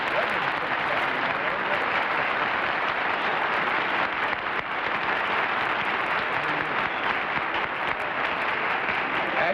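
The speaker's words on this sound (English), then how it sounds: "the applause grew and grew and grew" Sustained studio audience applause on a 1960s television panel game show, loud and dense throughout, a steady wash of clapping hands with no break.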